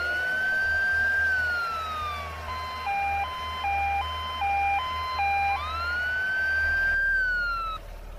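A video game ambulance siren rises and falls, then switches to a rapid two-tone hi-lo pattern before returning to a slow wail, loud and close over a steady low hum.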